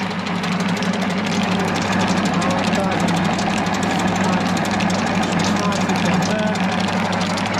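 A pellet mill presses feed pellets for rabbits, producing a loud, constant mechanical drone with a deep hum and rattling vibration throughout, with some talk over it.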